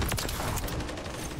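Shotgun loaded with slugs firing in the video game Modern Warfare 3, a few sharp, loud blasts crowding together over busy in-game battle noise.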